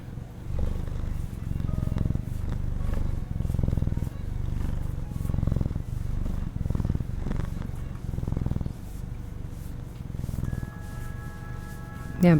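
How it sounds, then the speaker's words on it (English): A wet cat purrs up close in a rhythmic, rumbling cycle of low pulses, steady and fairly loud, with a thin tone briefly sounding near the end. "Oh, hello, cat."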